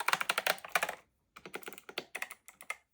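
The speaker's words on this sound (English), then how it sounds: "Something about that clicky keyboard sound that I feel everybody secretly loves." Clicky keys on an 8BitDo Retro Mechanical Keyboard are typed in two quick, crisp bursts separated by a short pause, close and clear with no talking.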